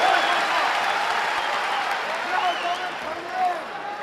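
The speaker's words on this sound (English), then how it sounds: "The crowd erupts, showing massive respect to both men." A Pride 21 fight crowd in an arena applauds and cheers continuously, a dense wash of clapping and shouting that swells near the end, with a commentator talking over it.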